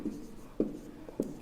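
Chalk or a marker taps and scratches in a few short, quiet strokes on a classroom board during a trigonometry maths lesson, with roughly evenly spaced marks in a quiet room.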